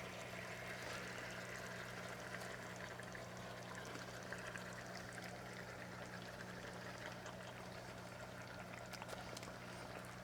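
Water poured into a pan of kabob makes a faint, steady, continuous trickle that runs for several seconds in a quiet kitchen.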